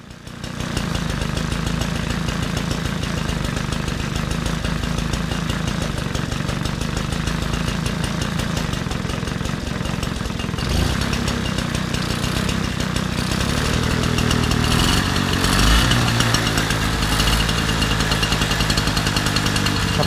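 An old 1973 Peugeot 102 moped, its leaky carburettor just fixed after some thirty years off the road, runs steadily for the whole stretch. The two-stroke engine makes a loud, continuous buzzing putter, rising a little in the last seconds.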